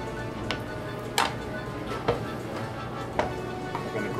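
A knife cuts into a big chunk of Parmigiano Reggiano cheese, giving several sharp, evenly spaced taps against a cutting board at close range over a low background hum.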